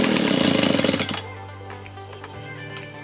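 A small two-stroke engine, just back together after a carburetor rebuild and running on choke, revs loud and buzzy for about a second, then drops away to a quiet low hum.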